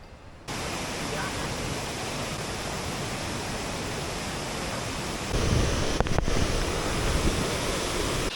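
A waterfall roars with a steady broadband rush of falling water close by, loud and continuous throughout, growing heavier partway through with a few brief knocks near the end.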